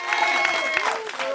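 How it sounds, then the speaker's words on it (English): Applause with cheering voices from an audience at an artist showcase in Cincinnati, Ohio: a steady wash of clapping with vocal whoops riding on top, moderately loud throughout. "Give her a round of applause,"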